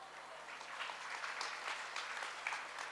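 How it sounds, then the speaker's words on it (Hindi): An audience claps at a spiritual discourse, a steady patter of applause lasting the whole stretch, moderately faint and heard from within the hall, with no speech on top. "मैंने ताली तो बजा दी"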